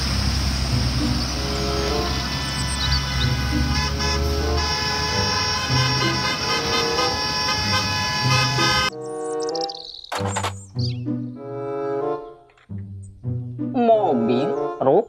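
A toy school bus plays a loud, sustained electronic horn toot for several seconds, then switches to a choppy run of short toy jingle notes.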